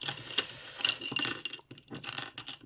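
Loose coins are handled close by with light metallic clinks and small jingling taps arriving in irregular bursts, fairly quiet, with no talking.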